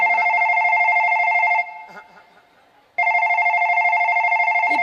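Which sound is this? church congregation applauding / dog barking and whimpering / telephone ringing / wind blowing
telephone ringing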